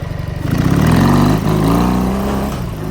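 A red MT motorcycle engine revs up from a low idle, climbs to a loud sustained roar, dips briefly and then holds at a high drone before easing off. The engine is close and no one speaks.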